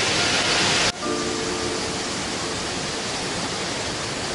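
Broadband rushing roar of a waterfall in the Gard, southern France, loud and steady throughout, with a sharp drop in level just under a second in before the constant wash of falling water carries on.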